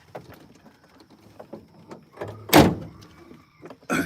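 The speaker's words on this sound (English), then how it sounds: "I need to close this door." Soft rustling and shuffling, then the loud sliding rumble of a van door closing, ending in a solid thud, followed by another short thump near the end.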